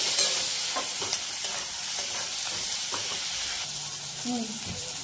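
Onions, tomatoes and four green chillies fry in a pan for a crab curry, giving a steady bright sizzle and hiss with scattered stirring scrapes and clinks close by, and a faint voice underneath.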